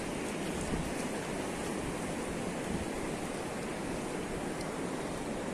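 Steady broadband roar of ocean surf washing onto a beach on the São Paulo coast, continuous and fairly close, with no voices.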